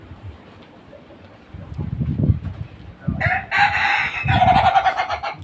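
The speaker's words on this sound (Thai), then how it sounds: "ว่าเสียงขันของไก่" After a few seconds of quiet outdoor ambience, a nearby rooster crows twice in close succession, loud and clear.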